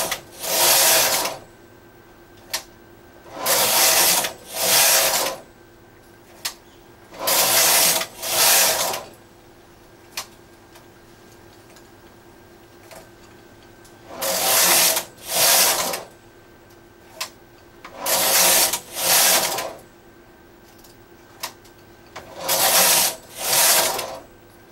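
A domestic knitting machine carriage sweeps back and forth across the needle bed in repeated paired whooshing passes, each row a rasping burst separated by short pauses and small clicks.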